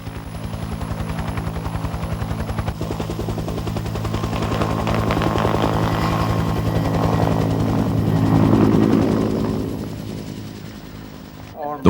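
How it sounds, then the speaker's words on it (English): A helicopter flies near with steady rotor chop and a turbine whine, swelling and fading as it passes, returning squads to base; a voice speaks over it at times. "The squads are returned to base by helicopter."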